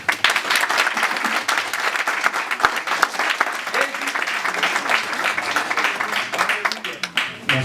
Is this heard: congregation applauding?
yes